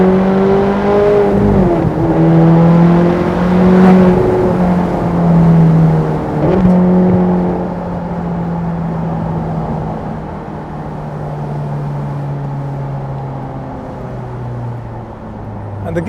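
A Ferrari California with a 4.3 V8 downshifted to fourth, engine note climbing in a strong, steady rising drone that dips briefly with gear changes, loud and close throughout.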